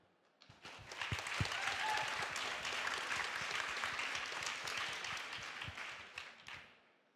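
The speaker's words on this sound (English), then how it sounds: "you really deserve applause" Applause from the audience at the closing special session of an international children's book congress, rising quickly, holding as a full crowd clapping for several seconds, then fading out near the end.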